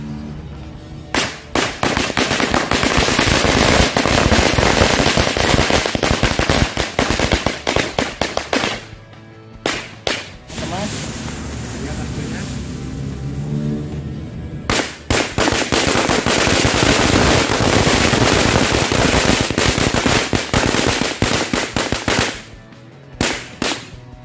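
Firecrackers set off in large numbers during the Ramadan fasting month crackle and pop in long dense volleys, pausing briefly twice before erupting again, loud and close throughout.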